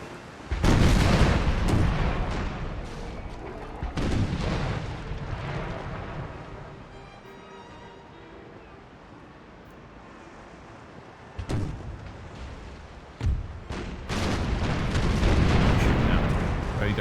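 Ship cannons in Empire Total War boom in heavy rolling broadsides, several deep blasts that swell and fade between quieter stretches of rumbling battle noise.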